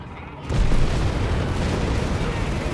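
Mortar fire in the Company of Heroes 3 video game: a sudden heavy boom erupts, then sustained low rumbling and crackling battle noise continues loudly throughout.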